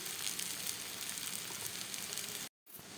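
Potato curry sautés in hot oil in a pan, giving a steady, dense sizzle close by. It runs unbroken, drops out briefly near the end, then resumes.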